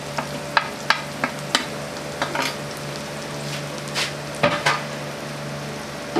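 Ridge gourd fries with spices in a pan, a steady sizzle running underneath while a spoon stirs and scrapes, giving repeated sharp clicks and knocks against the metal, with no talking.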